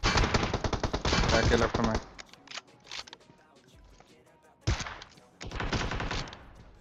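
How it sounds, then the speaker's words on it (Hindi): Rapid bursts of automatic gunfire in PUBG Mobile, loud and close, with scattered single shots and quieter gaps between the volleys. "गोलियां पूरे जोश में चल रही होती हैं"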